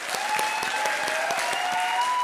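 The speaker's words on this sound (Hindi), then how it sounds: "ले गया ना सारी तालियां।" Studio audience applauding at a comedy talent-show audition, a dense steady patter of many clapping hands filling the whole stretch without a break, loud and close.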